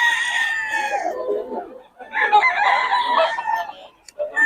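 Roosters crowing at a chicken market in Bocaue, two loud drawn-out crows close by, one after the other with a short gap, plus a brief cluck at the end.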